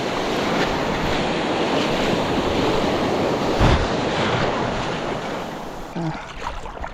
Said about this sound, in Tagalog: kasi malaki yung alon eh